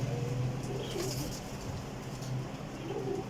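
Champion pigeons coo in soft, low, repeated murmurs close by, with light rustling and some faint wing movement in the loft.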